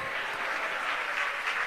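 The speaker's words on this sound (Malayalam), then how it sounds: "ഒന്ന് കൈയടിച്ച് ശ്രദ്ധിച്ചേ" Congregation members at a UPF church convention clap together during a pastor's sermon. The short burst of applause is steady and full, sounding from a large gathered crowd, with no talking over it.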